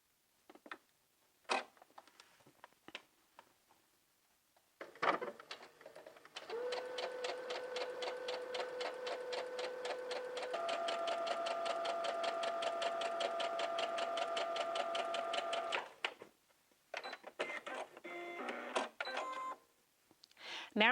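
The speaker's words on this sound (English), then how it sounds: "we're going to insert a stay stitch from the side seam all the way over to the center seam, and we're going to sew 1/4 of an inch from the raw edge" A sewing machine runs a stay stitch a quarter inch from the raw edge of maxi skirt fabric, a steady rapid whirring stitch for about ten seconds, briefly pausing and changing pitch midway, framed by fabric handling and clicks before and after.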